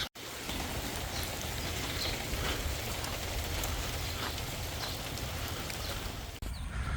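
Steady rain patters down on a surface in Thailand, a dense, even hiss of drops that keeps going without a break.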